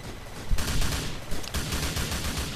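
Gunfire in GTA 4 during a Cops 'n' Crooks chase on foot, loud dense volleys of rapid shots crackling close, layered over a constant roar of game noise.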